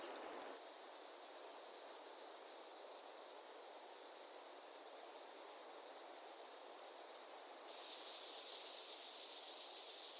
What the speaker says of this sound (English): In the midday heat, cicadas take the lead in the concert of the steppe.